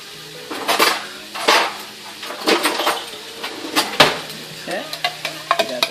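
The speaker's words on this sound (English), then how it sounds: "I'm going to put the peppers in" Spoon clinking and scraping against a bowl as chopped peppers are added to tomatoes and stirred, a series of sharp metallic taps and rattles in an irregular rhythm, close and fairly loud.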